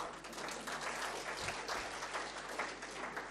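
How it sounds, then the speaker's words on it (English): Audience applause fills a conference plenary hall on SDGs in Bangladesh, a steady dense wash of many hands clapping at moderate distance, continuous and fairly even throughout. "Colleagues, give another round of applause."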